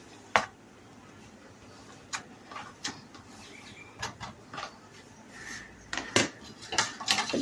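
A spoon scrapes and clinks against a cooking pot while cardamom and cloves are stirred for a cauliflower korma, with scattered metallic taps and knocks up close and no talking.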